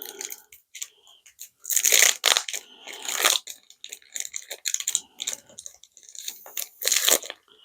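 Foil booster pack of trading cards being torn open and handled, with loud crinkly crushing and tearing bursts in irregular clusters close by, with no talking.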